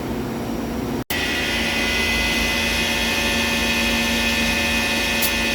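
A Citizen Miyano BMX-51MSY seven-axis CNC lathe runs dry, giving off a steady, fairly loud mechanical hum with a high whine. A sharp momentary dropout cuts in near the start before the drone resumes.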